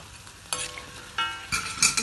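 Luqaimat, small Arabic sweet dumplings, fry in hot oil in a pan, a soft sizzle broken by several sharp bursts of stirring and scraping that come in uneven surges, close and clear with no talking.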